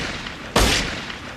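A single loud gunshot in a movie scene, a sharp close blast with a brief decaying tail over a steady background.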